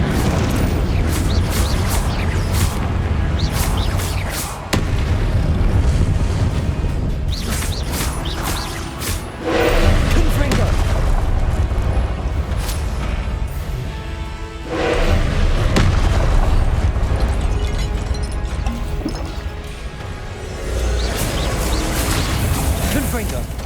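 Booming explosive blasts from the Confringo spell in the video game Hogwarts Legacy repeat every few seconds as heavy thuds and crashes, layered with game sound and a player's voice speaking throughout.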